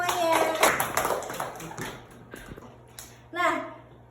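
A burst of clapping from a small group in a microteaching class, scattered and uneven, mixed with a voice, fading after a couple of seconds before a short voice returns.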